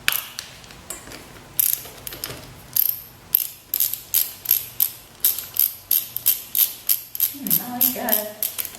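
A ratchet clicks in a steady rapid rhythm, close and crisp, loosening Allen bolts on the brake caliper of a Ducati Monster motorcycle, with a brief metallic clink near the end.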